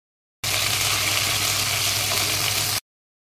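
Ginger garlic paste frying in oil in a kadai, a steady loud sizzle that starts abruptly, runs continuously for about two seconds, then cuts off.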